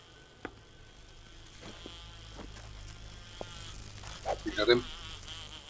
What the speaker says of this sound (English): Uh-oh, I hear a hornet.